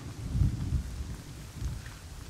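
Rain and thunder in the survival video game Rust: steady rainfall hiss with deep, rolling thunder rumbles that swell early and again near the end, with no voices.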